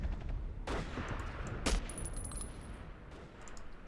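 Two sharp gunshots from the video game Battlefield 1942, set in the Siege of Tobruk, crack about a second apart, fairly quiet over a low, steady background rumble.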